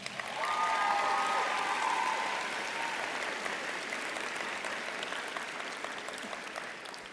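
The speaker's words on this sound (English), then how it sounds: "They all deserve a big round of applause." Graduation ceremony audience gives a round of applause for family, friends, faculty and staff, a broad, dense wash of clapping that starts full and slowly fades, with a faint whistle or cheer near the start.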